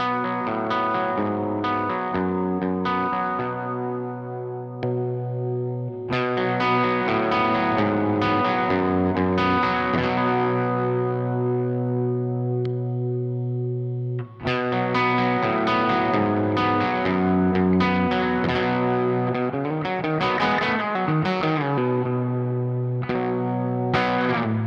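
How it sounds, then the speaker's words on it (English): Electric guitar run through an overdrive pedal, sustained chords and ringing notes with a slightly gritty tone, played alone and steadily with a short break midway. "overdrive pedal. It can get fuzzy depending on what amp you're using"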